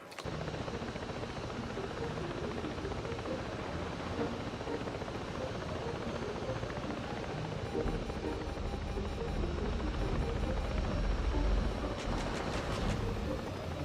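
Constant chopping drone of a helicopter's rotor in the video game Tom Clancy's Ghost Recon Breakpoint, steady and fairly loud, growing a bit heavier in the low end toward the end.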